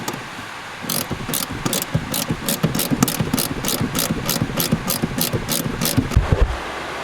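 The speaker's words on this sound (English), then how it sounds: "we're just going to go through, do all these bolts up." A hand ratchet clicks rapidly while tightening the bolts on a seat rail adapter, with quick repeated bursts of sharp ratcheting close by.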